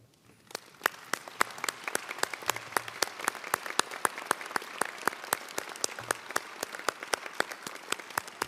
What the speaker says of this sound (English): may I ask you to please stand so that we can applaud you